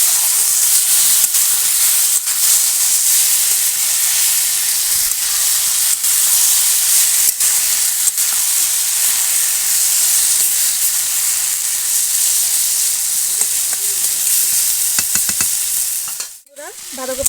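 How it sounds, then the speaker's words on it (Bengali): Shredded cabbage for a fish-head ghonto sizzles loudly in a hot pan with potatoes, a constant dry frying hiss broken by occasional stirring scrapes and clicks near the end. "বাঁধাকপিটা কিন্তু ভাজা ভাজা হয়ে গেছে।"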